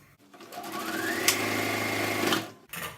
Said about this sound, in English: all we want to do is sew down both sides. So let's get stitching.